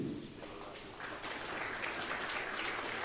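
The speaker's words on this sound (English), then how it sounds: "give our leaders a clap for that, please." A convention audience applauds its leaders, a faint, distant wash of clapping that builds slightly over a few seconds.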